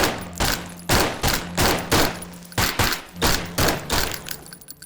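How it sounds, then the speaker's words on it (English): Guns fire in a VR shooter game, a rapid run of loud sharp shots in an uneven rhythm, about a dozen reports, close and alone without speech. "You can shoot them, and use the sights for better accuracy."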